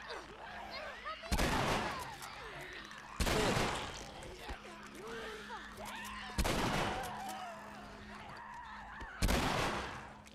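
Gunfire from The Last of Us video game fires four loud, separate shots at roughly even intervals of two to three seconds, each with a short ringing tail, over faint background game sounds.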